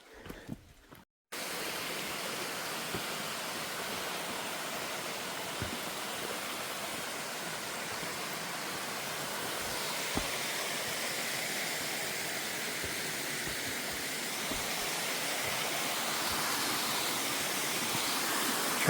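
A waterfall beside a hiking trail on the Appalachian Trail in North Carolina pours as a broad, steady roar of rushing water, close and loud and unbroken after a brief quiet start, with no voices.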